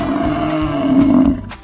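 A deep, rumbling lion roar swells and fades in one sustained, close, loud growl.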